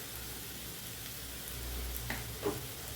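Onions already fried reddish in a pan sizzle steadily with Kashmiri chilli powder and turmeric added, with a couple of brief stirring scrapes near the end, close and moderately quiet.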